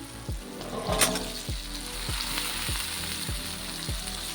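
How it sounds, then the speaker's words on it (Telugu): Broad beans (chikkudukaya) fry in a pan for a brinjal and raw mango curry, giving a steady close sizzle. Regular low thumps come every half second or so, likely from stirring in the pan, and no one speaks. "చిక్కుడుకాయ కూడా బాగా ఫ్రై చేస్తాం"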